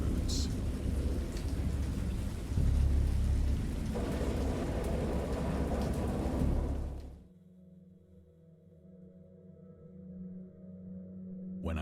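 Heavy rain pours with rumbling thunder in the video game Dagon for several seconds, then cuts away to a quiet, low hum.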